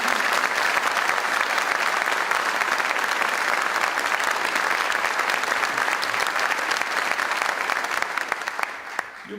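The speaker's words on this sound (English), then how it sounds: "Let's give them a round of applause for their good work." A crowd at a governor's event applauds legislators, a loud, dense and sustained clapping that fills the room and only fades slightly at the very end.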